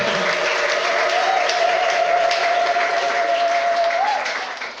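A church congregation claps steadily and loudly throughout, a dense wash of hands with a sustained sung or held tone running beneath, fading slightly at the very end.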